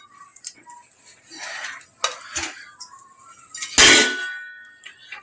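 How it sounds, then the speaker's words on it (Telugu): Clinks and clatters of utensils and a steel plate as ragi dosa is served, a few sharp metallic knocks and scrapes with one louder clang near the end, close and alone. "సో ప్లేట్ లో సర్వ్ చేసుకుందాం."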